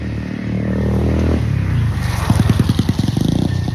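Motorcycles pass on a dim roadside while someone walks in the open, a steady loud engine drone swelling, then a puttering exhaust with rapid rhythmic pulses as one rides close by.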